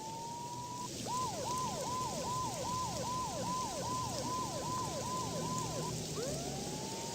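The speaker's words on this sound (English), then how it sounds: "Mona must have heard the sirens too." A police siren wails in the Max Payne video game, a loud, steady series of repeating rising-and-falling sweeps over a rain-like hiss, with no talking.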